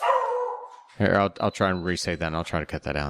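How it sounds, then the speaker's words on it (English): An excited dog that wants to go outside lets out a brief bark or whine at the start, then a person speaks over the quieter background. "My dog's excited to go outside."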